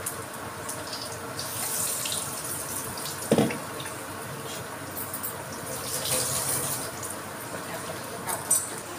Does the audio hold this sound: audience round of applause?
no